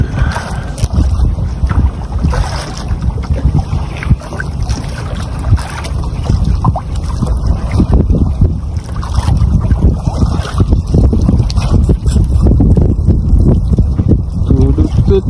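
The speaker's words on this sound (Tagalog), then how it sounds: "Malakas naman yung hangin." Strong wind buffets a small fishing boat out at sea as waves slap and wash against the hull, with steady loud roaring noise throughout and occasional voices heard under it.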